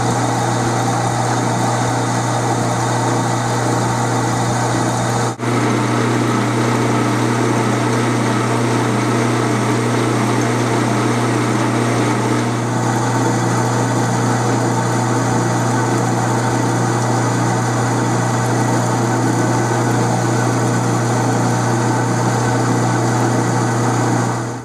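A horizontal boring bar hogging out 303 stainless steel on a machine tool, a loud continuous whine and hum with steady cutting noise, one brief break near five seconds.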